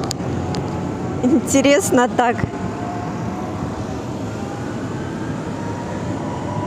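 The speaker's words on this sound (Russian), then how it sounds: "Трактора носятся с утра пораньше." Tractors drive past early in the morning, a low continuous engine rumble with a faint rising whine, moderately distant, while someone speaks briefly over it.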